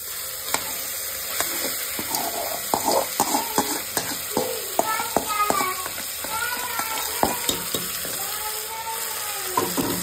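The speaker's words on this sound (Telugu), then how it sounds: "ఇప్పుడు మనం మ్యాగ్నేట్ చేసుకున్న చికెన్ని ఇందులోకి వేసుకోవాలి" Marinated chicken tipped into a pan of softened tomatoes for a 2024 chicken biryani, sizzling and frying steadily with a scatter of stirring clacks and utensil scrapes throughout, close and moderately loud.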